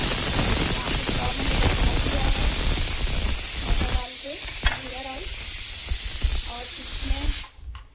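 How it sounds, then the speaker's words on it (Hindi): Paya trotters boiling in a pot on a home kitchen stove, giving a steady hiss of steam and bubbling that holds throughout, with faint clinks over it, then cutting out near the end. "इसमें पाए उबल रहे हैं, मैं पाए बना रही हूँ।"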